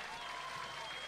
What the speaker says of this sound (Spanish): Más fuerte el aplauso, más fuerte el aplauso.